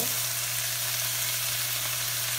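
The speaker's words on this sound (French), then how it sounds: "Alors, j'ai mis moitié soya, moitié eau. Et là, on va déglacer le tout avec ça." Hot pan for pad thai deglazed with a half soy sauce, half water mix, producing a loud, continuous close sizzle with a low steady hum underneath and no talk.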